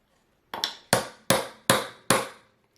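Five sharp, evenly spaced hammer blows drive a Japanese chisel into wood, each a crisp close knock with a short decay, steady in rhythm and loud against an otherwise quiet background.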